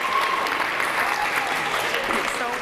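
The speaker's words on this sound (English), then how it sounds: "give her a rousing round of applause" Audience applause at a convention event, a dense, even wash of clapping from a crowd that carries steadily for a couple of seconds, close and loud with no speech over it.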